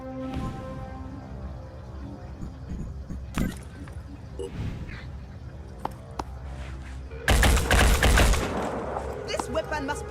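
Weapon gunfire in Phoenix Point, scattered single shots followed by a dense rapid burst near the end, heard against a quieter game background with a faint voice early on.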